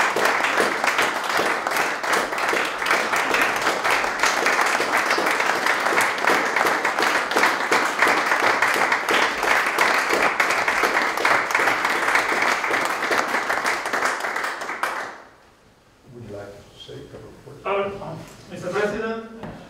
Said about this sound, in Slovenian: Še en aplavz tudi za izdelovalce.